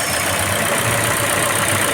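A Ford EcoSport engine idles after a cold start before an oil change, a loud, even, continuous mechanical hum with no pauses, close to the car.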